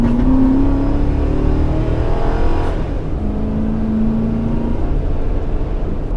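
A 2005 Ford F150 with a 5.4 liter V8 accelerating hard, a loud steady engine drone rising in pitch, easing at a shift and then climbing again, heard from inside the truck.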